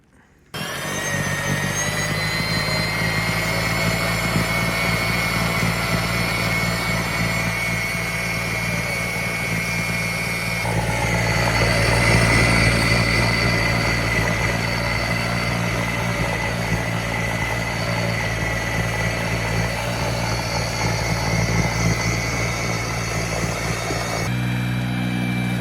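An EGO battery-powered snowblower runs steadily and close by for the whole stretch, a constant motor whine with a broad churning roar that swells slightly midway, with no talking.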